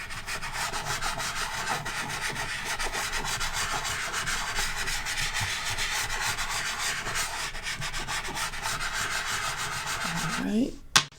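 Dark brown chalk pastel rubbing on paper, a continuous dry scratchy scraping in quick back-and-forth strokes, close and quiet, ending with a short bump.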